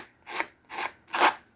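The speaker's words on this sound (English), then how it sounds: "It just does a lot cleaner job if you use a sanding block or a nail file." Three short abrasive rasping strokes of a sanding block down a paper edge, evenly spaced, each a quick scratchy rub, fairly quiet and close.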